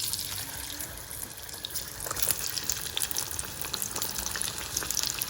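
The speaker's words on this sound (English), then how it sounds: "After being in the freezer for half an hour, they will go in for their first fry" Chips hiss and crackle steadily in hot oil during their first fry after chilling in the freezer. A constant close sizzle runs throughout with scattered small pops and no voices.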